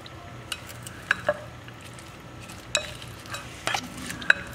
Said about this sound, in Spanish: Le vamos a incorporar los ingredientes a la col. Lo vamos a revolver.